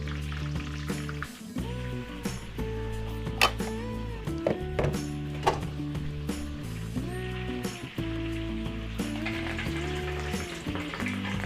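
A steady sizzle of tempura-battered fish fillet frying in hot oil, continuous and close, with music playing over it and occasional clinks.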